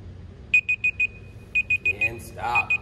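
A workout timer alarm ending a plank hold beeps in quick bursts of four evenly spaced electronic tones, pauses, then repeats, with a voice briefly speaking over it near the end.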